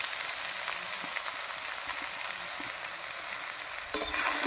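Bottle gourd stirred and fried in spiced oil gives a steady, close sizzle with soft scraping stirs, ending in a brief louder clatter and brighter crackle.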